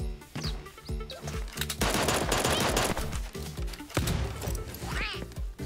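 Dual pistols fire in rapid close-range bursts during a Super Animal Royale match, sharp overlapping shots packed densely together with brief gaps, loud and near.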